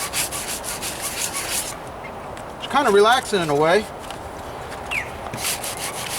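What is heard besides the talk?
hand sanding car body panel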